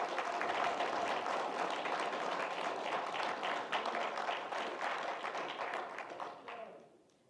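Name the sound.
audience applause at a meeting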